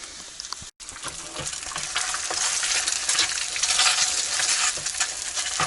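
Butter sizzling and crackling in a pan on a camp stove in the Uinta Mountains, Utah, heated before scrambled eggs, a steady close hiss with scattered pops throughout and a brief break near the start.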